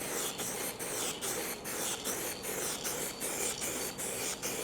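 Spray paint hisses onto car chrome trim in close, regular bursts, about a dozen short sprays with brief pauses between passes.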